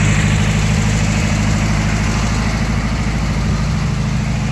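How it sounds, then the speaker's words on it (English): A 1971 VW Type II Bus engine idles steadily throughout, a loud, close, even low rumble with a constant vibrating drone and no talking. "Engine still seems to be running good."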